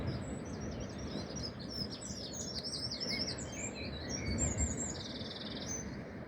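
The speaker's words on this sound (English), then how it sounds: "And the melodious tweets of the birds." Birds tweet and chirp in quick, overlapping bursts along the shoreline at Goodrington Sands in Paignton, Devon, heard over a steady low wash of outdoor ambience.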